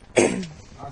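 A single close, rough throat clearing, a short gravelly burst into the microphone that trails off quickly.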